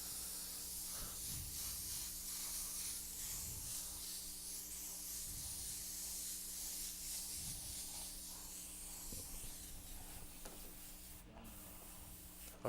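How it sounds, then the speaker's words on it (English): A soft, steady hiss of an airbrush spraying blue paint continues throughout, with faint rubbing and light handling noises underneath. "I'm just spraying blue around the outside."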